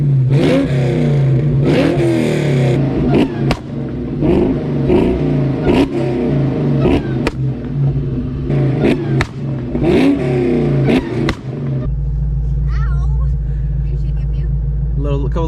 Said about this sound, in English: we're gonna go ahead and just do a couple little revs just so we can hear it out